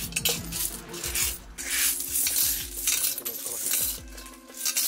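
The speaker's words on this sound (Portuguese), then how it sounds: "Tá derrubando no chão todas as moedas." Coins spill and drop onto a floor in repeated clattering bursts, metallic clinks and rattles bouncing and settling in quick irregular clusters, fairly close and loud over a steady background tone.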